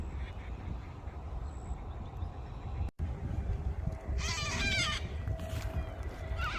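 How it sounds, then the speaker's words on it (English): Cockatoos screech and call loudly at a lakeside, harsh squawks rising over steady outdoor background noise, with some calls nearby and others further off. "cockatoos, always very noisy."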